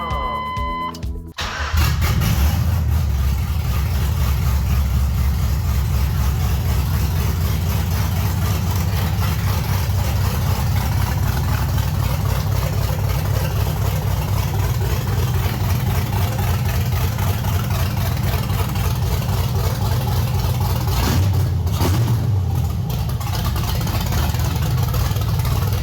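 A 1989 Chevy S10 Blazer with a swapped-in LS engine cranks briefly, fires up, and settles into a loud, steady, rumbling idle close by, with a short dip in the roar near the end.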